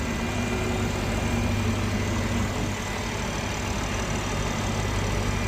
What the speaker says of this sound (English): straight six-cylinder turbo, B52 engine in there.